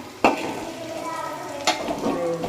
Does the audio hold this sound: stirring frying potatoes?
yes